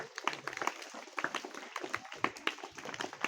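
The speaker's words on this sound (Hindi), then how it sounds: "जोरदार ताली बजाइए" A crowd of schoolchildren and guests at a school event claps steadily, a dense patter of many hands at moderate distance, continuing without a break.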